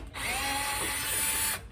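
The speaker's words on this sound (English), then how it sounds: "I'm using my drill, taking my chance." A power drill runs on a Landice L7 treadmill while a side rail is removed near the rear roller. It gives one loud, close, steady whine that lasts about a second and a half, then stops, with no speech.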